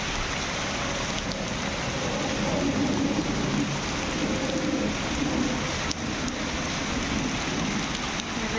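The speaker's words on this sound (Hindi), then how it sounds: "एकदम बारिश आ गई तेज की," Heavy rain pours down steadily as a dense, even hiss across the whole stretch, close and unbroken, with faint low rumbling beneath.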